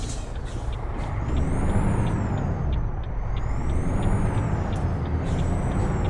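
A Freightliner Argosy truck in Euro Truck Simulator 2 slows with loud, close air-brake hisses over a steady engine rumble, accompanied by a wavering high whine and regular light ticks.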